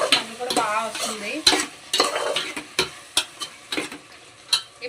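Ginger paste frying in a pan, for a chicken tahari rice dish, gives a moderate sizzle broken by a series of quick spatula taps and stirs.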